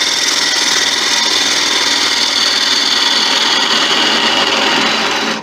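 A crossgrain tigerwood blank spins on a wood lathe while its base is flattened, giving a loud, continuous hissing cut with a steady motor hum that stops abruptly at the end, no voices.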